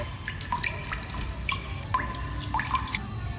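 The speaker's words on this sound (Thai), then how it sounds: "เอาน้ำร้อนที่ต้มมาแล้วนะเดือดๆนะ แล้วก็ใส่ไปแล้ว" Boiled water poured into an old, worn-out car battery being restored, heard as a run of light, separate drips and trickles at close range over a low background hum.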